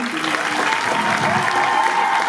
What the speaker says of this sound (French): On peut applaudir Émilie.